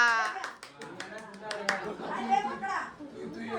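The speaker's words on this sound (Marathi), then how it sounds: "टाळ्या" Clapping at a family 50th birthday celebration, a burst of hand claps under excited children's voices and chatter, fairly close and lively throughout.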